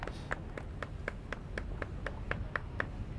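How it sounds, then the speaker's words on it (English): Faint, far-off clapping at a retriever trial, evenly spaced claps at a steady rhythm of about four per second, heard outdoors while a dog swims back across a pond. "Some applause here from the crowd as Amber makes that long swim back across the pond to the boat."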